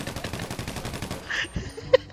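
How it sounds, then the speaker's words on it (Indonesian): Gunfire in the video game GTA V, a rapid volley of loud shots rattling off in a burst, followed by a sharp single crack near the end amid game noise. "Ada suara tembakan."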